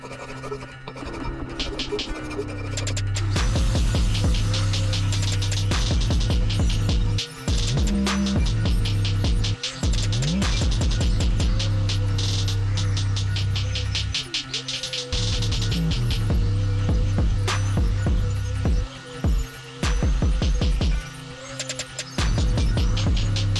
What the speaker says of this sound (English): What I'm gonna do is take my file and just go around there and clean that up real good.